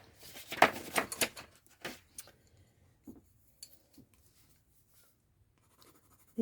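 Colouring a drawing of a small house on paper for a winter lodge scene: quick scratchy strokes of a pencil or pen in a burst, then sparse faint taps and scrapes in a quiet room.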